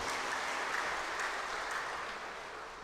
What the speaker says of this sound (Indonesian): Saya mau minta kita tepuk tangan buat orang tua kita ini.